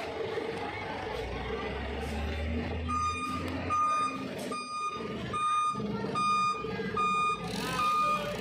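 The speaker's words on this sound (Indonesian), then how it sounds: "bolak-balik dump truck-nya untuk memadatkan pasir" A dump truck reversing back and forth to compact sand at a church yard emits a regular series of loud reversing beeps over a low engine rumble, with people talking in the background.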